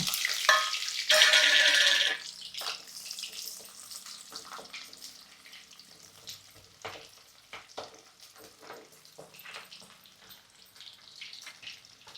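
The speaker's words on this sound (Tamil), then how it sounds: "இந்த பச்சை மிளகா வெள்ளை பூண்டு இஞ்சி போட்டுக்கலாம்" Green chillies, garlic and ginger hit hot oil in a pan for radish chutney, giving a loud sizzle at first that settles into a quieter, steady crackle with faint stirring clicks.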